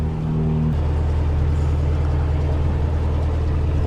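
A low engine drone rumbles steadily throughout as a boat motors past close by on a canal, with a brief higher hum fading at the start.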